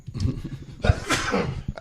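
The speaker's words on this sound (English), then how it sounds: "I gotta sneeze" A single sharp sneeze bursts out near the mic, with a loud explosive onset followed by a noisy breathy tail.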